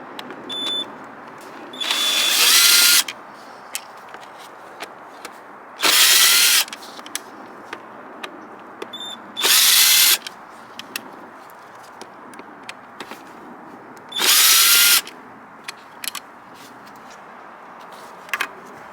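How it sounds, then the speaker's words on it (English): A power drill unscrews a factory speaker from its interior mount in a 1998-2001 Jaguar XJR, four short loud whirring bursts separated by quieter gaps with small clicks and handling noises. "Now unscrew the factory speaker from its mount and install the new one."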